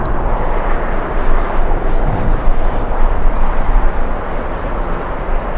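A freighter aircraft at LAX in strong winds, its engine roar continuous and broadband under heavy wind buffeting, loud and steady throughout with no talk.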